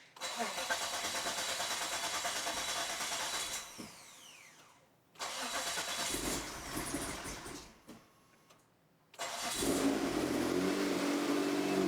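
A 2023 Stealth AWD car with a GTX3576 turbo cranks and tries to start three times, each loud whirring bid ending abruptly, until the engine fires and settles into a rough, close idle on the last attempt.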